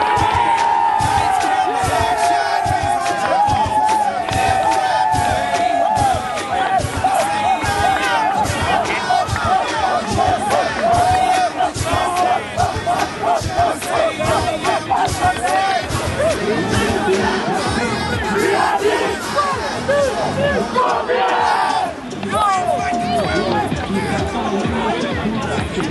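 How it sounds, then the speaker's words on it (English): Crowd rushing the court at a Scorpions 18clan game in Fresno, a loud, dense babble of shouting voices, thuds and scattered cheers running continuously, with chant-like calls rising in places. "The crowd is rushing the court, and it seems like they're chanting something."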